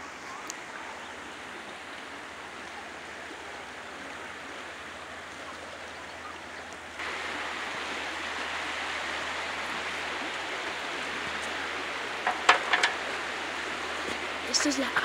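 A river in Arizona flows with a faint, even hiss of moving water, growing a little louder partway through, with a few brief birdlike chirps near the end.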